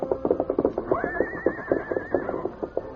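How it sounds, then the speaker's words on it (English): Scout, a paint horse, whinnies loudly and close by, with a rising then wavering call near the middle of a few seconds of restless snorting and hoof-like thumps. "Scout continued to whinny"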